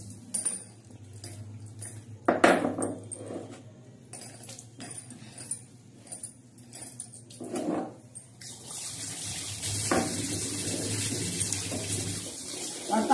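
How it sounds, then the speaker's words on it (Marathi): Water is splashed over a stone grinding slab to rinse it after grinding a chana dal chutney with green chilies, garlic and cumin. Scattered knocks come first, then steady, close pouring and splashing water fills the second half. "त्याच्यासाठी आपण पाटा धुवून त्याचं पाणी थोडं घेणार आहोत"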